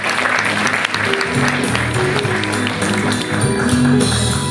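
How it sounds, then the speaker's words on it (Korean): Audience applause fills a Korean ceremony for the first Infertility Family Day: steady, dense clapping throughout, with faint tonal music running underneath. "다시 한번 큰 박수 부탁드립니다."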